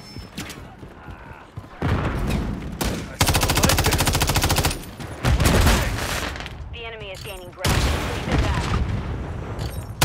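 Frag grenade explosion and rapid gunfire in Call of Duty MW3 multiplayer, with loud bursts of automatic fire and booming blasts coming in waves, one burst after another, as a voice talks briefly over the action.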